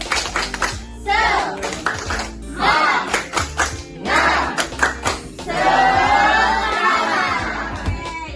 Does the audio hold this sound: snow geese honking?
no